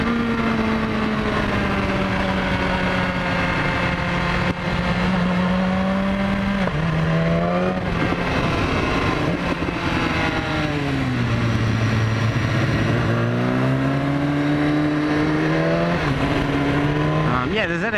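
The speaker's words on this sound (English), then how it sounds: "A good opportunity to use my auto blipper. I'm back into first gear." Kawasaki ZX-10 superbike engine revving hard and loud throughout, pitch climbing and dropping as an auto blipper downshifts back into first gear, with sharp blips between gears.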